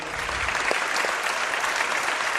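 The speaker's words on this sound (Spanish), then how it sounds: "Os pido un aplauso para él, es periodista, escritor." An audience applauds a journalist and writer guest, steady dense clapping from a crowd at moderate distance, continuous without pauses and with no talk over it.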